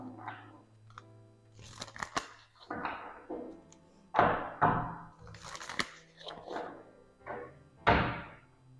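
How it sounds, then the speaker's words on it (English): A deck of tarot cards is knocked against a surface in a run of irregular, sharp thumps and slaps, some louder than others, over a low steady background hum. "As I'm, banging the cards"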